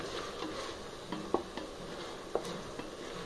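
Ginger garlic paste sautéed in a pan for brinjal biryani gives a faint, soft sizzle dotted with a few light clicks and taps from a spoon against the pan.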